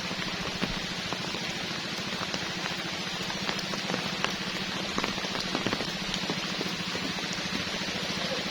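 Steady rain falls beside a river during a fishing trip, with an even drumming patter of drops on the surface and on a nearby umbrella under a tree, continuous and close, with no talking.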